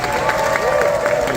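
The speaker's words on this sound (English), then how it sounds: "A nice round of applause for the crew." An audience at a stunt show at Disney's Hollywood Studios applauds the crew, a steady spread-out clapping and crowd noise that fills the space loudly for over a second, with a voice carrying over it.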